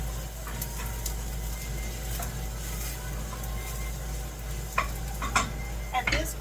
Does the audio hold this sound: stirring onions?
yes